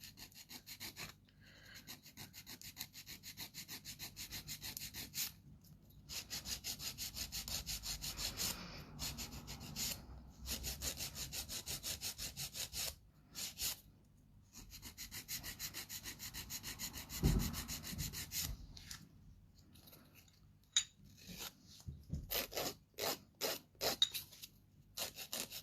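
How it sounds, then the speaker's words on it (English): A 100-grit hand file rasps briefly across a surface in short, quiet, irregular strokes with small pauses between passes, heard close up. "I'm just going to file that briefly"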